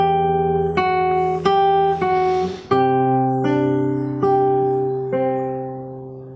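A gentle fingerpicked acoustic guitar repeats an opening phrase, with evenly spaced plucked notes that ring into each other, close and clean, and no voices.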